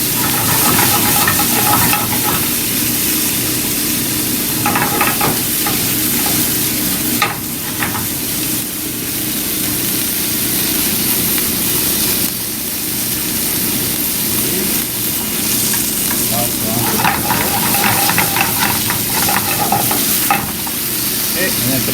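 Lotus root kinpira sautéed in a pan with reducing sauce, a loud steady sizzle with repeated stirring scrapes and clatters of utensils against the pan, continuing without pause.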